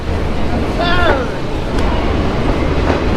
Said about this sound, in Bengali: একদম কাঁটায় কাঁটায় 6:50 বাজার সাথে সাথেই কিন্তু ট্রেনটা ছেড়ে দিয়েছে